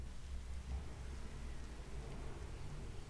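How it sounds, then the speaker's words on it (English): Rain falls outside as a faint, steady wash of broadband noise with a low rumble beneath, distant and even throughout, with no voices. "oh, it's raining."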